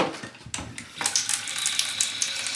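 Hot water splashes and runs into a plastic tub the size of a cat litter tray, with clattery splashing at first and then a steadier rushing pour, close and fairly loud.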